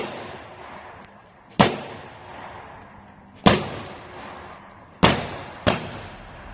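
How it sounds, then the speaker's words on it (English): A boxer throws hooks on a wall bag, four sharp, heavy thuds at uneven intervals, each cracking loud and close before fading into the gym's room echo. "Listen to him throw hooks on the wall bag like a sniper."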